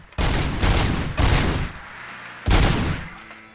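Bursts of rapid gunfire ring out at a shooting range in the video game Robocop Rogue City, three loud volleys separated by brief pauses and followed by fading echoes.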